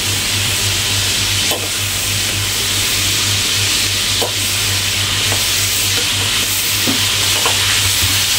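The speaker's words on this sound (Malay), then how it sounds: "Ni kita gorengkan udang dulu." Shrimp fry in a pan with a loud, continuous sizzle and occasional scrapes of a utensil stirring.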